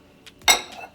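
A spoon stirs lentil stew with diced sweet potatoes in a pot, giving a brief clink and scrape against the metal, with a few faint knocks around it.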